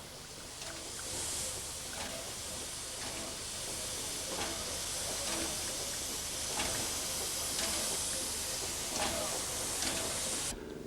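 A 1911 De Glehn 4-6-0 steam locomotive from France's Northern Railway hisses steam in a loud, steady rush, with faint rhythmic chuffs and clanks threading through the continuous roar.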